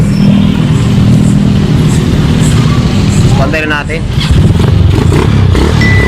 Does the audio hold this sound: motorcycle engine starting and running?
yes